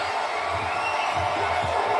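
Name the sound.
wrestling crowd cheering in Charleston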